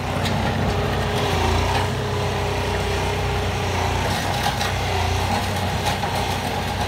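A Gianni Ferrari 4x4 tractor engine drones steadily and fairly close as the tractor pushes snow with a homemade plow blade.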